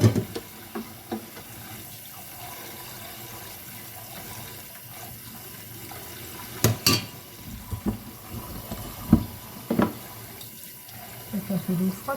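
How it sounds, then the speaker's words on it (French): Cold water running from a kitchen tap, a continuous soft hiss and splash with occasional clinks and knocks, moderately close, with a few brief sounds of movement over it. "Un peu d'eau froide parce que c'est chaud."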